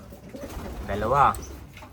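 A racing pigeon coos once, close and clear, over low background murmur.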